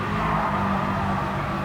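A race car engine in Gran Turismo 7 during a license test, holding fourth gear with a steady loud droning roar that barely changes pitch, with no talk over it.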